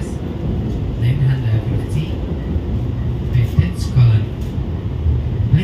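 A panoramic passenger train runs on rails, giving a steady, close low rumble and rattle that carries on without a break from start to end.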